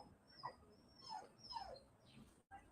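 A dog whimpers and whines in a few thin, wavering high-pitched cries, close by and soft, over a quiet indoor background.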